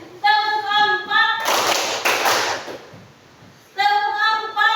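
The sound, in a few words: class doing a rhythmic clapping routine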